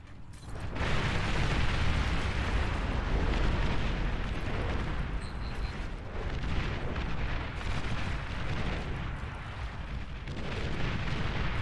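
Artillery pounds away in the real-time strategy game Beyond All Reason, a continuous heavy rumble of overlapping blasts and booms that stays loud and steady throughout.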